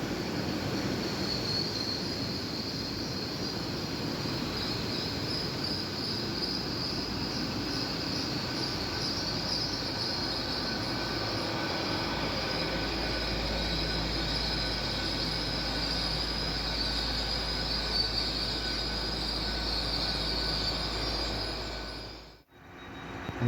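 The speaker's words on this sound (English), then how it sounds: "this is one of the trains going the wrong way" A train running through a station on a Cornish branch line, a steady close rumble with high wheel squeal and hiss lasting throughout, ending in a brief dip and a knock.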